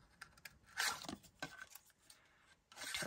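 Scissors snip through card stock while a card shape is cut out for handmade card making, a few quiet, close, irregular cuts and paper rustles with no speech.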